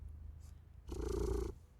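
A domestic cat purrs close up, a steady low rumbling burst lasting about half a second amid quiet room noise.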